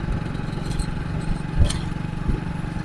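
A paddy harvesting machine working in a rice field gives a steady, rough mid-pitched engine drone, fairly close, with a brief louder knock partway through and no talk.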